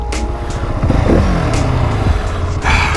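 Husqvarna 701 Supermoto motorcycle ridden and braking hard, a loud close single-cylinder engine note dropping in pitch as it slows, with wind rush and some clatter.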